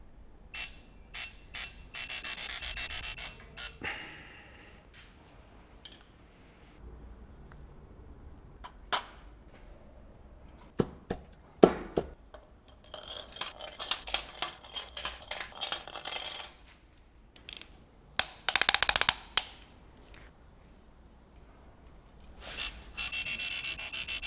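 Ratchet wrench clicks and metallic clatter from tightening bolts on a bare V8 engine block for a supercharged Alpina B7, coming in irregular close bursts of rapid pawl ticks separated by quiet pauses.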